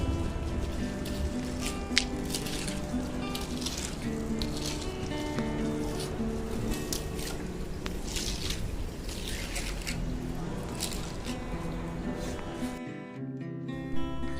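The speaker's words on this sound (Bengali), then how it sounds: "জল পড়ছে।" Water falls and drips in the evening, a continuous close splashing hiss dotted with sharper drip ticks, cutting to near quiet for a moment before the end.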